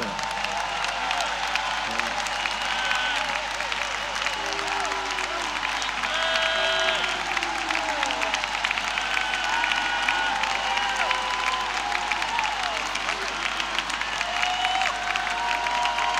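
A church congregation standing in a service bursts into sustained applause to acclaim the Lord, dense clapping and cheering from a crowd that continues steadily throughout, with voices calling out among it.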